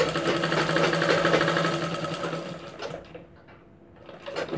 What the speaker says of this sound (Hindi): तो अब हम इसमें सिलाई चलाना प्रारंभ करेंगे। इस प्रकार से नीचे के साइड से हम इसमें किनारे से सिलाई लगाना चालू करेंगे।